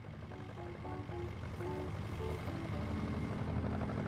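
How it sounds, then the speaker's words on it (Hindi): Steady low engine drone from a tractor travelling at around 30 km/h, a continuous rumble with engine harmonics and a faint tonal hum layered over it, loud and close throughout with no talk. "मिस टियान, देखा जाए तो ये ट्रैक्टर 30 किलोमीटर की स्पीड से चल रहा है"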